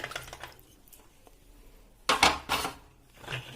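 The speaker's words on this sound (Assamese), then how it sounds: "এইটো আমাৰ বাহিৰৰ বেচিন, বাহিৰত বাচন ধোৱা। চাকিবোৰ ধুই এটাকে" Clay lamps and dishes are washed at an outdoor basin, with intermittent clinks and scrapes of crockery and a louder burst of knocking toward the end, set against a quiet background.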